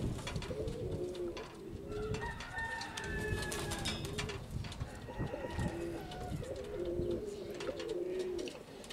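Valenciano pouter pigeons, including a young female of this year, coo in low, throaty, rolling phrases that repeat close by over several seconds outdoors, with faint background noise and no clear talk.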